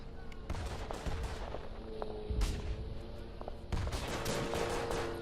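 Gunfire in the WWI shooter game Verdun: rapid overlapping rifle and machine-gun shots crack continuously throughout, with a denser burst near the end, loud and close with distant shots behind.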